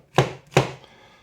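Two crisp knife chops on a board, vegetables cut with a handmade knife, each a sharp close thunk with a short decay and no talk.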